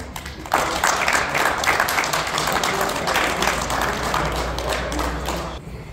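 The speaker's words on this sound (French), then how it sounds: "je peux applaudir la petite Léa Harley" An outdoor crowd at an RC car summer race applauds a rookie finisher, steady brisk clapping of many hands with a low rumble underneath, loud and continuous for about five seconds before cutting off.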